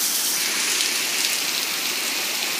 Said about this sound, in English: Yeah, it's really hailing out.